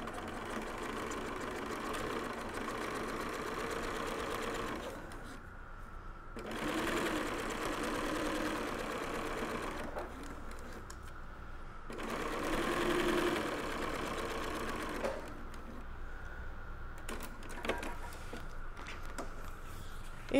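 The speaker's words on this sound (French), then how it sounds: "Donc, je viens faire ma surpiqûre." A sewing machine topstitching fabric beside a zipper on a reusable snack bag, steady whirring stitch runs in several bursts separated by short pauses, close and even, with no talking.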